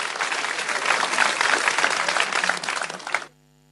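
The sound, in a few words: audience applause welcoming Hanwen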